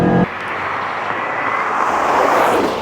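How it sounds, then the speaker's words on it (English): A 2015 Dodge Hellcat launches with wheelspin. After a short opening burst, a loud, rough engine and tire roar builds steadily as the car pulls away. "Spin the wheels and off we go."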